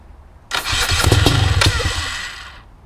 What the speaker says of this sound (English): We'll do some kickstart stuff here.